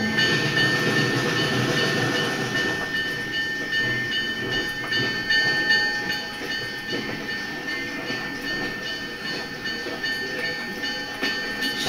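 A narrow gauge train runs along its rails with a steady rolling rumble and faint clicking of wheels over joints, loud and continuous throughout.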